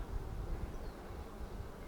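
Honeybees crawl over the outer frame of a spring hive, giving a faint, steady low buzzing hum that runs unbroken with no voices.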